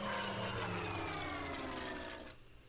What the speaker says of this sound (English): All right, we got a plane over here.